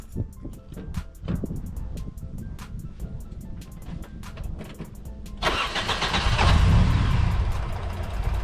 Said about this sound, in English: So let's start the car and hopefully it still starts.